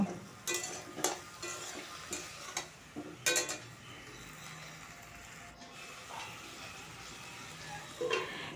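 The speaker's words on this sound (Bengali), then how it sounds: "সেই রকম সিম নিয়েছি তারপর খুব ভালো করে মিশিয়ে নেব আর একটু ভেজেও নেব" Flat sheem beans stir and fry in a pan, soft frying hiss with several distinct scraping spatula strokes early on, then quieter sizzling with occasional clinks, fairly faint overall.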